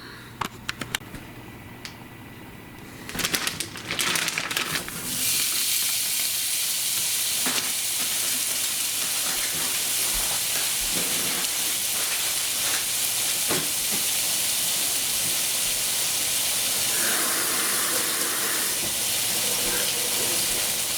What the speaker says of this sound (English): It's time to cook some sloppy joes for dinner.